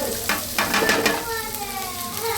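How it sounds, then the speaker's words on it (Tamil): Banana flower sautéing in hot oil in a pan, a close, steady sizzle with brief stirring scrapes over the first second. "வாழைப்பூ வணக்கலாம்."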